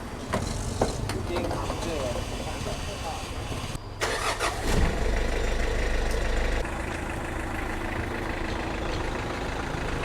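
Mitsubishi L300 van engine cranking and catching after repair, a brief burst of starter noise settling into a steady low idle, heard close with someone talking over it.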